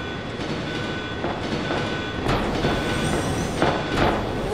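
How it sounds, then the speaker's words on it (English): A train in the video game Resident Evil 2 rumbles steadily along with a constant low roar, faint rhythmic clacking and occasional metallic squeals, heard alone at a steady loud level. "This train will detonate."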